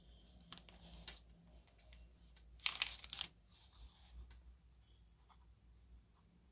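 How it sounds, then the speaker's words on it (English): Oliver Grace eyedropper fountain pen writing with violet ink on paper, faint scratchy nib strokes in short bursts, with one louder scraping burst in the middle, quiet and close. "Let us have a writing on this pen. This is our violet ink."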